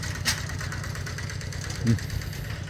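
A truck engine idles close by with a steady low, pulsing rumble and a faint rhythmic knock, while a voice briefly speaks over it.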